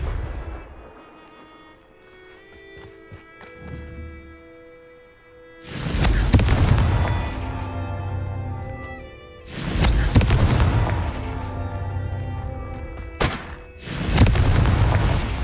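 Confringo spell blasts in the Hogwarts Legacy video game, three loud booming explosions in a row, each with a long rumbling tail, between quieter stretches of ambient game tones.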